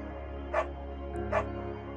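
A dog barks twice in the video game Firewatch, two short clear woofs about a second apart over a quiet background hum.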